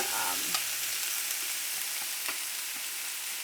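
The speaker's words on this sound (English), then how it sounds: "Onions and garlic. And then I'm going to fry it up." Onions and garlic frying in a pan, a soft steady sizzle close by with a few light clicks of a utensil stirring them, and no talk.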